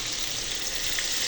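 Lentil piyaju fry in oil over a low flame, a soft, even sizzle that stays fairly quiet throughout.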